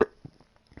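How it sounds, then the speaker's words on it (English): A short, abrupt burp bursts out close to the mic, followed by a few faint, soft throaty sounds. "That was one nasty burp."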